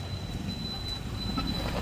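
A train pulls into a station on the way to Vasai, a steady heavy rumble and rolling clatter of railcars filling the whole stretch, close and continuous with no voices.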